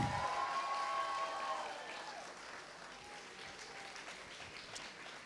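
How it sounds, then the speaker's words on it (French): Crowd applause for contestants at the Otak'est 2019 cosplay contest, broad clapping fading gradually from loud to quieter over several seconds, with a faint tonal hum early on and scattered claps near the end. "Un tonnerre d'applaudissements pour tous les candidats, s'il vous plaît"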